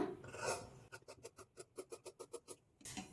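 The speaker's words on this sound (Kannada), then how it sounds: "ಈಗ ಈ ಪ್ರಿನ್ಸಸ್ ಕಟ್ ಪಾರ್ಟನ್ನು ಕಟ್ ಮಾಡ್ಕೊಳ್ಳೋಣ" Scissors cutting blouse fabric for a princess cut part, about a dozen quick rhythmic snipping crunches close up, framed by brief rustling of cloth at the start and end.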